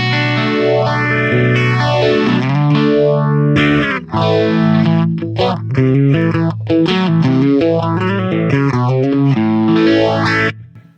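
Electric guitar played through a Vox Cambridge 50 modelling amp on a distorted, heavily modulated patch with a sweeping chorus-like effect and a deep, bassy speaker tone, sustained chords ringing continuously and loudly for about ten seconds with no talking.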